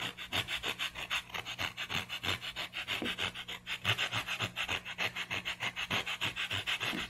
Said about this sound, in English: I'm going to take the sandpaper here and let's make a little pile of sawdust